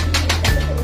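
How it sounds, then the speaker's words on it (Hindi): A Karachi breed pigeon gives a brief, low coo at close range, soft and throaty, over a faint rustle. "ये वाहिद कबूतर है कराची के जो कि कराची की अपनी ब्रीड है"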